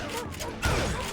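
Gunfire in the video game Call of Juarez: Gunslinger, a short burst of overlapping shots with a louder crack midway, heard close over a rumbling game background.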